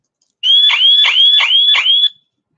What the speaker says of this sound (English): So this is the sound when someone tried to steal the car.